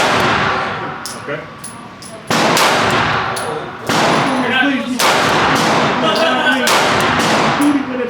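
Repeated loud handgun shots from an EDC pistol at an indoor shooting range, sharp cracks at an irregular pace over several seconds with reverberation, and a brief spoken word between shots.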